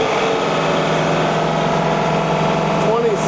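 A John Deere 3039R compact tractor engine held at a steady, loud drone as it is run up to wide open throttle during a loader lift test, with a constant hum and no talking over it.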